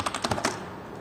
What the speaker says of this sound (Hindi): यहाँ पे हम टाइप करेंगे डेटाबेस